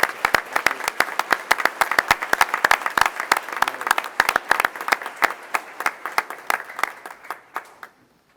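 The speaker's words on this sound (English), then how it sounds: "one more round of applause to her and her kids that were here tonight" Applause at a school board meeting for a first grade teacher and her kids: a modest crowd claps in a quick, uneven patter with distinct individual claps, tapering off toward the end.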